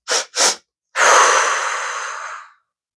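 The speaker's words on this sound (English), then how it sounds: "just 2 quick puffs through the nose, almost like a sniffle, and a long exhale through the mouth" Two quick sniffs through the nose, then one long, steady exhale that slowly fades, close and clear with silence around it.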